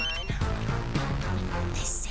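A mobile phone rings with a bright, repeating electronic ringtone melody, steady and fairly loud throughout, with no voices over it.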